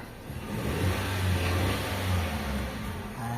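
A Toyota Avanza engine runs steadily with rising revs, a loud, continuous mid-pitched drone that swells and eases through the short stretch, close by with no talk.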